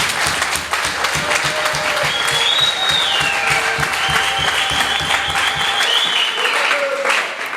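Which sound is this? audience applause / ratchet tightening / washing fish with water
audience applause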